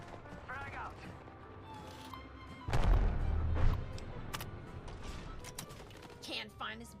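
Gunfire in a shooter video game, heard as a faint, muffled burst of shots in the middle amid low game ambience and scattered mechanical clicks, with in-game voice callouts around it.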